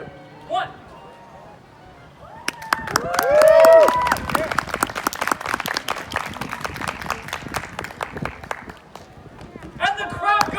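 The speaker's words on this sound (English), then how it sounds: "And the crowd goes wild." An outdoor crowd at a Renaissance festival erupts in cheers and dense clapping after a five-ball juggling trick, the applause swelling, holding for several seconds, then thinning into scattered claps, with a few voices calling out.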